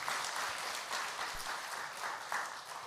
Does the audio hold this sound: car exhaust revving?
no